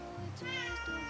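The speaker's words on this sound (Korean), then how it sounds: "고양이가 본다" A cat meows in a single drawn-out call with a rising, wavering pitch, loud and close, with no talking over it.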